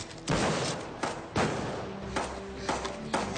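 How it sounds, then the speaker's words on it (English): A pump-action shotgun fired at a shooting table during a women's shooting challenge, with about five loud, close blasts spaced unevenly, each decaying quickly. "That's Ali on the pump-action shotgun."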